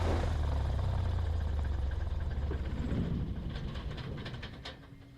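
A light aircraft engine at idle on a grass strip dies away as the mixture is pulled, its low steady drone and rattle fading and tapering off over a few seconds.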